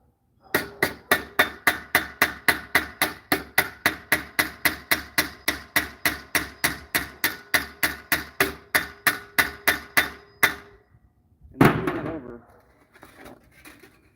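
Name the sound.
small hammer setting rivets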